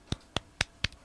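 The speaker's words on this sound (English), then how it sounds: "Golf clap." A few slow, polite golf-style claps, four soft hand claps evenly spaced and close by, with no talking.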